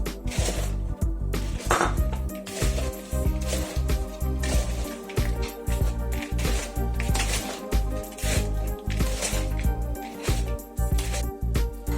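Crushed nuts are stirred into cookie crumbs in a bowl for a sweet sausage dessert, a steady rhythmic scraping and clinking of a utensil against the bowl, close and fairly loud.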